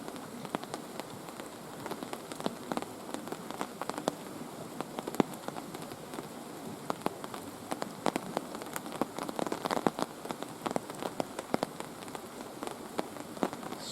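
Steady pouring rain patters on a hammock tarp during a wild camp beside a river, a dense close hiss of drops with scattered louder taps running throughout, no voices.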